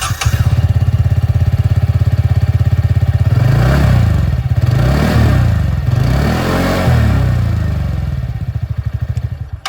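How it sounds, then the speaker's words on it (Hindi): TVS Ntorq 125 scooter engine idling close by with a steady exhaust putter, then revved several times in rising and falling bursts before settling back toward idle, loud and alone without talk. "मैं आप लोगों को जो एग्जॉस्ट साउंड है वो भी सुना देता हूँ। स्टार्ट करते हैं यहाँ पर एंटॉर्क 125 के साथ।"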